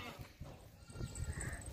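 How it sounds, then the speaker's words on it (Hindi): A tall, plump, healthy goat at a sacrificial livestock market bleats faintly a few times amid low market bustle and background noise; a voice murmurs nearby. "ऊंचा लंबा मोटा ताज़ा बकरा है"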